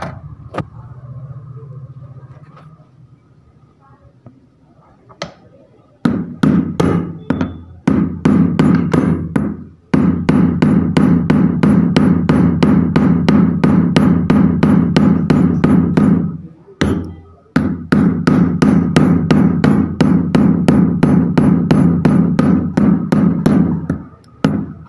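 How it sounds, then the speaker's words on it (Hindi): A hammer beats the bent metal tip of a small machine's lifter, a fast run of loud, close, ringing metallic blows that begins after a quieter opening, pauses briefly twice, then continues steadily to the end. "सबसे पहले आपको इसको हथौड़ी से इस तरीके से"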